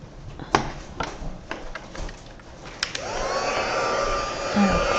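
Heat gun blowing hot air to melt embossing powder, starting after a few light knocks and taps, then a loud steady whooshing hum with a rising whine that holds to the end.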